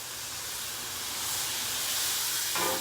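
Steam hisses loudly and steadily off a hot Blackstone griddle as pork loin cooks, a broad close rushing hiss that swells slightly toward the end with no talk.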